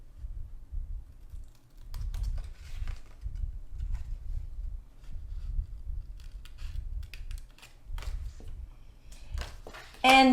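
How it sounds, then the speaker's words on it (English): Scissors snip through card paper during card making, a quick run of small dry cuts in irregular bursts, close and fairly quiet with no talking. "So just snip across."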